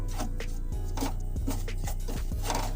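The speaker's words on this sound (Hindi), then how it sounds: "अब इसे अच्छे से मिक्स कर ले घी के साथ सूजी को।" Semolina is stirred with ghee in a pan, producing a series of rhythmic scraping strokes of a spoon or spatula against the metal, close and fairly loud.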